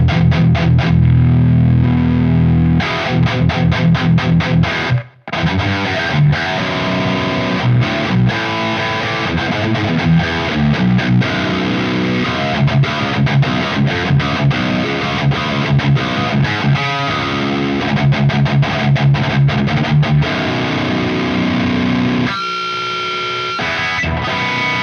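Heavily distorted electric guitar through a Synergy Bogner Uberschall preamp, pushed by a precision drive boost, playing aggressive high-gain riffs with chugging palm-muted passages, sharp stops and sustained chords, loud and alone without talk.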